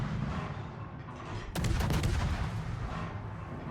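Destroyer secondary guns fire in World of Warships, a burst of sharp broadband booms starting about halfway through over a constant low engine and sea rumble, with several close, rapid shots and no talk.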